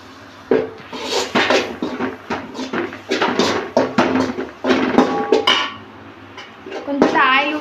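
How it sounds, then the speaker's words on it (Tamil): Spoon stirring sambar powder masala in a cooking pot, a run of repeated scraping clinks and taps against the metal, close and fairly loud, with a brief voice near the end. "நல்லா கிளறிக்கோங்க"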